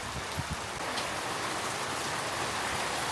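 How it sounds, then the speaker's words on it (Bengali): Heavy, steady rain pours down without a break, a dense hiss of drops spattering on surfaces close by. "এখনও ননস্টপ বৃষ্টি"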